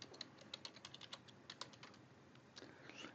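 Quiet, rapid keystrokes tap on a computer keyboard in short irregular bursts with brief pauses between them, faint and close with no talking.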